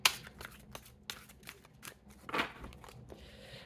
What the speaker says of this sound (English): let's shuffle these cards a bit,